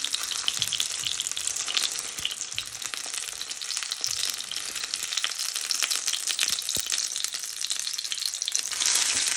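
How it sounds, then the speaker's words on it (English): Buttermilk-coated steaks deep-frying in hot oil, a loud, continuous crackling sizzle with occasional clicks as tongs turn the pieces, close up. "So you now just want to start turning them with the tongs."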